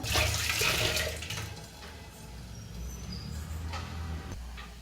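Water with a little salt bubbles and churns at a steady boil in a cooking pot, a continuous rushing hiss with no voices.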